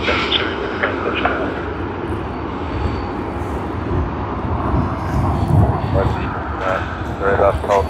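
An airliner climbs away after takeoff at Sydney Airport, its engines making a broad, distant roar that swells slightly toward the end, with people talking over it.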